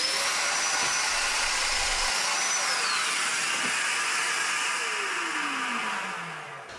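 A Domino joiner cuts mortises in walnut for a footstool with a loud, steady, close whine that holds through the clip and then spins down at the end, and no one speaks.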